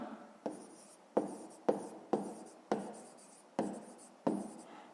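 A pen writes on paper during a fifth-grade math exercise, about seven distinct scratchy strokes in an irregular rhythm, each a sharp onset fading out, close and quiet with no talk.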